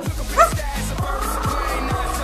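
A pet parrot imitates a dog with a string of short, sharp bark-like yips at a steady rhythm, close and fairly loud, with a brief squawk near the start.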